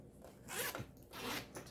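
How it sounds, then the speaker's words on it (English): A zipper on a sewn mini backpack is pulled open in two quick, close, raspy strokes with a short pause between them. "to open our zipper"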